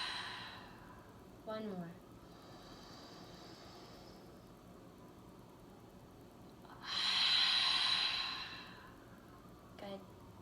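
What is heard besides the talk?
deep inhales and exhales in a breathing exercise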